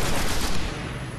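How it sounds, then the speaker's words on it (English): Dense, continuous gunfire in the video game Destiny, a loud, unbroken barrage of shots filling the whole moment with no speech over it. "What is shooting at me?"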